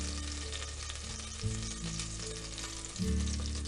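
Butter and olive oil sizzle gently in a pan, a soft, continuous hiss with faint crackles and a couple of brief stirring bumps, heard close but quiet.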